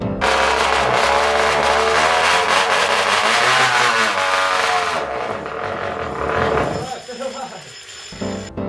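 A gas-powered trumpet, a musical instrument fitted with a finely tuned engine, roars loudly through its exhaust, rising and falling like revving before cutting off abruptly near the end.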